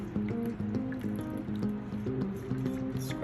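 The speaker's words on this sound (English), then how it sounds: "now we're gonna go ahead and pour this into our baking pan" A thick corn pudding mixture is poured into a 9x13 baking pan, making soft, close squishing and gloopy liquid sounds as it flows in steadily, with no talking.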